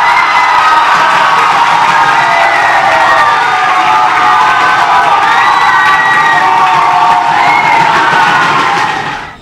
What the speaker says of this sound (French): faites des applaudissements pour vous-même